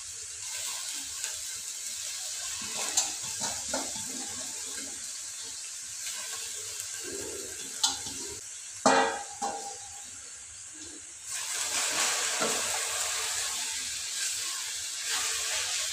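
Amaranth leaves added to a hot pan on a home stove, giving a steady steamy sizzle and hiss with occasional clinks and scrapes of stirring, briefly quieter mid-way before the sizzle swells again.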